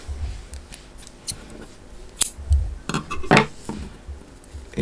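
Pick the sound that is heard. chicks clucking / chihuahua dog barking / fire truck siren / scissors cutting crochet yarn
scissors cutting crochet yarn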